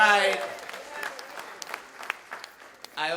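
An audience at a Caribbean Heritage event applauds after officials are recognised, a short burst of scattered clapping that thins out quickly, with a voice talking at the start and again at the end.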